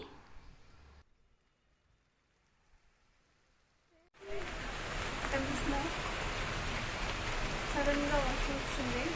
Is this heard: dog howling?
no